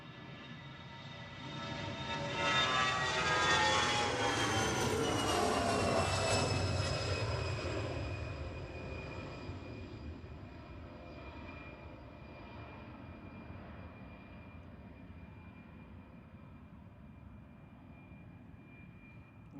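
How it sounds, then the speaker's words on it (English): A VistaJet Challenger 850 business jet, registered 9H-ILY, departs Manchester Airport with a rising engine roar that peaks within a few seconds, then fades into a long, distant rumble. "Departing here is the little VistaJet back to Faro 9H ILY and Mitsubishi Challenger 850."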